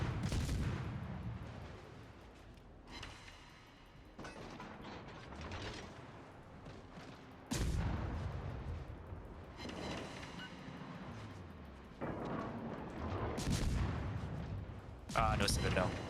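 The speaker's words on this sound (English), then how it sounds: "Oh man, my secondary batteries just started shooting." German battleship secondary batteries fire in World of Warships, giving several booming shots at irregular intervals over a constant clatter of mechanical game noise.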